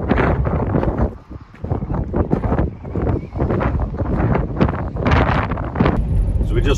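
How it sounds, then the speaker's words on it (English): Strong wind buffets the microphone on the north coast of Scotland near Strathy Point, loud and gusty with heavy rumbling bursts throughout, while a person talks over it. "this wind is the reason I wasn't recording out at Strathy Point"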